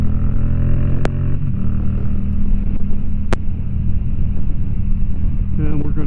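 Steady low engine rumble and rushing road noise from a motorcycle cruising on a highway at roughly 49 to 64 mph, heard from inside a Shoei RF-1200 helmet, continuous and fairly loud, with a voice talking over it.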